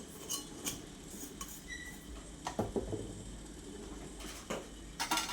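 Faint metallic clinks and light clatter of small metal puja vessels being handled, scattered and soft against a quiet room background.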